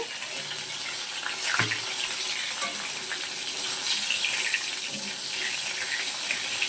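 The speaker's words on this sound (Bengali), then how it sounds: "এত জল ছিটকাছে কেন বলো লোটে মাছের মধ্যে না জল তার জন্য এরকম হচ্ছে" Bombay duck fish frying in hot oil give off a constant dense sizzle and hiss with crackling spatters, heard close up and steady throughout, with a faint thump or two in the background.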